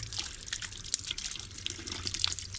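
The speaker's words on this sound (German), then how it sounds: "Ein bisschen Pflanzen gießen." Water pours and splashes while plants are watered outdoors, a soft, irregular trickling and dripping with scattered small splashes, fairly faint and continuous throughout.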